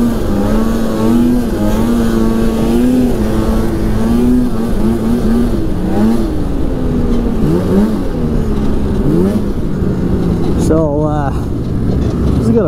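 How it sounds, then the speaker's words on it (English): A Polaris Edge X 800 twin snowmobile engine running loudly and continuously, its pitch rising and falling through several revs, heard up close with a voice talking over it at times. "Got a very snappy motor."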